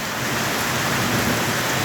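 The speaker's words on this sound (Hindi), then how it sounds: "बहुत तेज़ बारिश, पूरा जलमग्न।" Heavy rain pours over flooded wheat fields during an April downpour, a dense, steady hiss of water with a low rumbling undertone, constant and fairly close with no one speaking.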